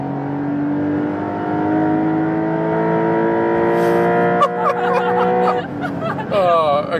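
Porsche 911 Dakar cruising at high speed, a steady engine drone with rising harmonic tones heard from inside the cabin, followed by a shift and revving near the end.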